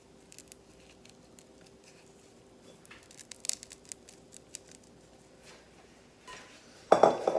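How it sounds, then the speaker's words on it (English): Dry sumac berries cracking and crinkling as they are handled, a scatter of faint, sparse crackles and ticks that ends in a louder rustling burst. "They're dry and you can hear them crack"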